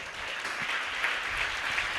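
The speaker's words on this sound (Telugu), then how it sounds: "చప్పట్లు కొట్టి దేవునికి స్తోత్రం చెప్పాలి" A crowd at a Christian worship gathering claps steadily for a couple of seconds in praise to God, a dense, even patter of many hands with no voices.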